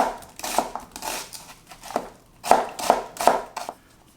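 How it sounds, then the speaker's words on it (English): Knife slicing onions thinly on a cutting board, a series of close, crisp chops in uneven bursts, with no talking. "I'm going to start in by chopping our aromatics, beginning with the onions."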